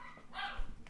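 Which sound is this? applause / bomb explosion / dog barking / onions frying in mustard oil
dog barking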